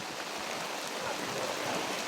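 Heavy rain pouring down outdoors during a fishing trip, a dense, steady hiss with no pauses and no voices.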